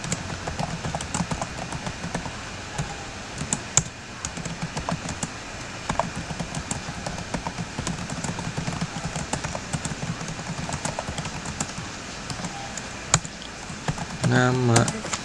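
Keyboard typing in Microsoft Word, a steady stream of rapid close key clicks running throughout at even volume, with a soft voice speaking near the end.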